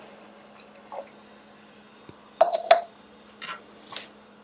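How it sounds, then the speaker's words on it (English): Water is added to a pot of burnt food, making short, sparse splashes and drips. Two brief bursts of pouring sound stand out against a quiet kitchen background. "going to add a little bit more water in there."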